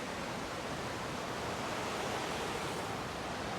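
Steady broadband roar of Looking Glass Falls and its rapids in Pisgah National Forest, western North Carolina, a constant dense rush of falling and churning water with no pauses.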